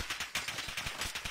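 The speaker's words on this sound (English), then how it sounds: "I'm getting shot at." A rapid burst of automatic gunfire in the video game Apex Legends, with evenly spaced shots in a fast rhythm over about a second, loud and close with no talk.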